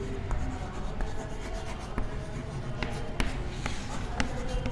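Chalk or marker writing numbers on a board, with repeated short taps and strokes in an irregular rhythm at moderate closeness and no talk over it.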